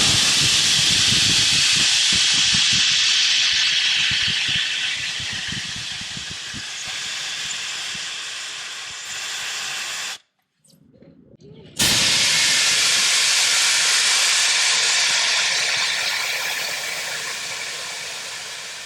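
Air rushes loudly and steadily out through an Apex Designs fast air valve in a strong, close hiss. It cuts off briefly partway through, then resumes at full force and slowly fades as the tire empties.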